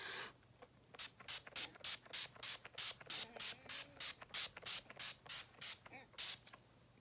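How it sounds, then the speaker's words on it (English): A quick series of short, sharp bursts of makeup setting spray onto a face, around eighteen of them in a fast, steady rhythm, close by, with a faint hum underneath. "Okay, I'm ready to spray my face."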